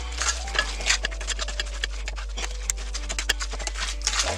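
A utensil stirring tuna salad in a bowl, producing a steady run of close, rapid scraping clinks and soft squelches against the dish, with a low hum underneath.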